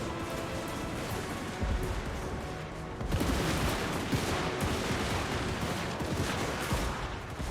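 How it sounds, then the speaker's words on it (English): Kislev troops fire massed volleys on a Total War: Warhammer 2 battlefield, a dense, continuous crackle of musketry that swells louder partway through, layered with distant booms and battle clamor, with no talking. "With this gorgeous line of Kislev firing"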